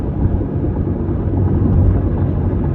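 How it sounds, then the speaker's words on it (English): Steady low roar of road noise and rushing wind inside a 2022 C8 Corvette 1LT Z51 at highway speed, continuous and even, with no voices. "You hear a little bit of road noise, but the wind noise is actually surprisingly composed"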